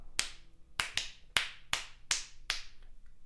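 Seven crisp hand claps land in an irregular, syncopated pattern off the main beat, each one short and bright with a quick decay, close and alone against a quiet background.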